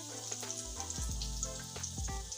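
Pointed gourd stuffed with chicken mince frying in a pan, a steady soft sizzle with occasional spatters and a few stirring knocks of a utensil.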